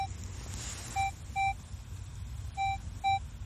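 Minelab Equinox 800 metal detector sounding a target signal: four short, clear tonal beeps in two pairs over a low background hum.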